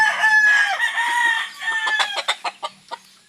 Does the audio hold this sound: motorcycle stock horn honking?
no